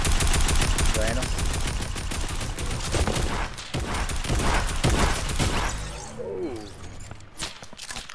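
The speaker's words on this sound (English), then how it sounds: "Oh, I'm being sniped at." Rapid gunfire crackles throughout a Fortnite match, dense bursts that include sniper rifle shots, loud and close, with a person talking over the shooting before the firing thins out near the end.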